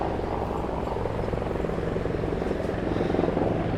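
Military helicopters drone overhead with a steady, thumping rotor chop, a continuous low rumble that stays even throughout, moderately loud and somewhat distant.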